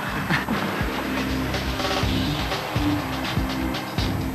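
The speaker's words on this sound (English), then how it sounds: "Today we're at yet another European train station" Ambience inside Madrid's Atocha station, a busy European rail hub, with a steady roar of moving trains and rhythmic rolling clatter and thumps, dense and continuous with no talk.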